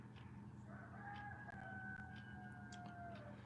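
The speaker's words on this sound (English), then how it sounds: "I want these chickens out of here." A rooster's drawn-out crow rises and trails off, faint and distant, over a constant low background drone.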